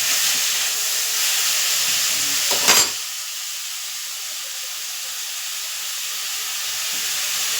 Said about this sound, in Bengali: বন্ধুরা আমি একটু চাটনি বানাবো। এই টমেটোটা কেটে রাখলাম,